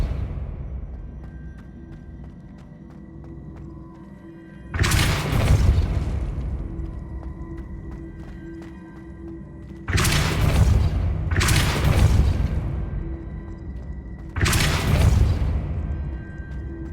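Depulso spell blasts from the video game Hogwarts Legacy. Four loud, booming bursts arrive at irregular intervals, each dying away into a rumbling decay over quiet background ambience.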